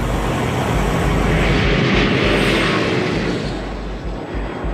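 An airplane flying low near an airport, a loud, steady jet roar that fills the whole stretch, sweeping slightly and easing off a little toward the end.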